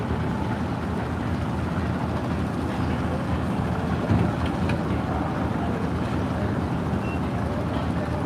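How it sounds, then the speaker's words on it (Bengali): A motor trawler speeds along the river near Sadarghat launch terminal, its engine a loud, steady broadband rumble that stays close and constant throughout, with no clear speech. "ওয়াও কি গতি নিয়ে আসতেছে ট্রলারটি দেখতেই পাচ্ছেন আপনারা"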